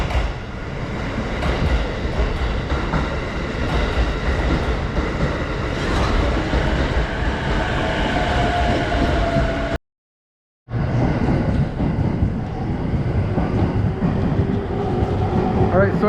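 Steady rumble and rattle of a moving train in Japan heard from onboard, with wheels clattering over the tracks and a brief dropout partway through.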